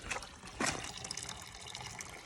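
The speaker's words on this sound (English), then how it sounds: "This is my local spring." Water trickles and splashes from a village spring in rural Bulgaria, a close, uneven dribbling flow with a brief louder gush near the start.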